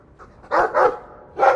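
A dog in the video game Dragon Age 2 gives three close, sharp barks in quick succession with a short pause before the last.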